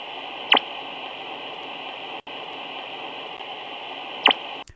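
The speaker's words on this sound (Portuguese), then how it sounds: "o que parece ser só uma interferência chata no rádio de ondas curtas, na verdade é o som de sistemas de monitoramento globais super complexos em plena operação" Shortwave radio reception of an over-the-horizon radar or ionosonde signal: a steady hissing, buzzing static band with a brief dropout midway and two sharp chirps near the start and end.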